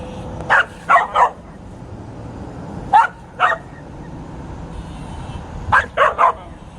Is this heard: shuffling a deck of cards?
no